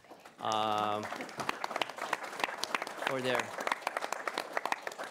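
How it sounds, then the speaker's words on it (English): Audience applause at a cybersecurity industry panel: a steady patter of clapping runs for several seconds, joined by two short bursts of a tonal, voice-like sound near the start and midway. "So please join me in giving them a round of applause"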